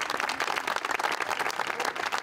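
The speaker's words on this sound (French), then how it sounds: "Des applaudissements" Applause from an audience at a charity event that raised funds for a care centre, a dense, steady patter of many hands clapping without pause for a couple of seconds, fairly loud and close, with no voices over it.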